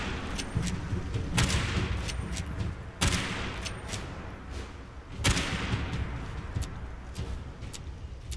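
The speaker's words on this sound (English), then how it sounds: "Hey, missile turret! Hit it!" Missile turret firing in the Fallout 76 video game, a loud, continuous barrage of gunfire and booming blasts, with heavier explosive bursts landing about every two seconds throughout.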